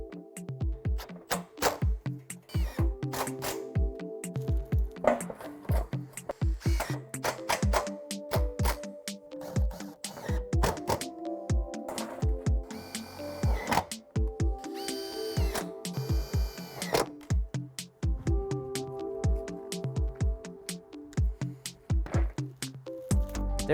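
Screws with rubber gaskets are power-driven into overlapping corrugated metal roofing panels on a firewood rack, giving a steady string of short, close ratcheting drill bursts with metallic rattles and clanks between them.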